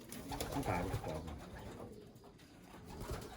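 Racing pigeons coo steadily inside a loft, their soft, throaty calls overlapping close by and continuing throughout with no talking.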